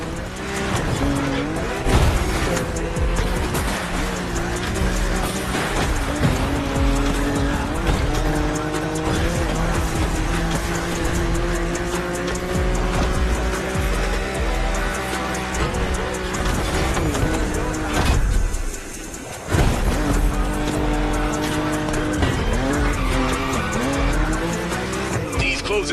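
Race cars in a video game screech and skid through corners, tires squealing over a loud, continuous engine roar that drops out briefly near the end; speech is faintly mixed in.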